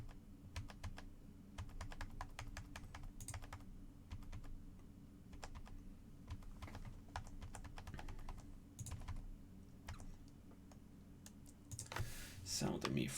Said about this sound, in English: Sound of me frantically clicking.